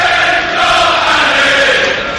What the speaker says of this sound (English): You can hear the Spurs fans applauding him and cheering his name as he leaves the field